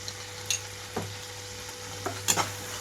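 Egg fried rice in a pan with a little chili sauce and a few drops of soy sauce going in, giving a soft, steady sizzle with a few clinks and scrapes of stirring scattered through, no talk.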